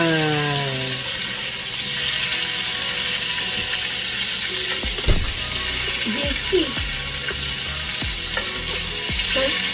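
Butter burgers frying in a pan, a continuous loud sizzle and spatter with scattered clicks and scrapes of a spatula, while a voice talks faintly in the background.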